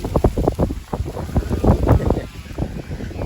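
Strong wind buffets the microphone in heavy, irregular low rumbling gusts, with a steady hiss over the top and no clear voices.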